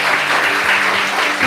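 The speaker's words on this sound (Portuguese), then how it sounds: "Você pode aplaudir ao Senhor?" A steady wash of clapping from a church congregation during a sermon, dense and continuous throughout, with no clear gaps.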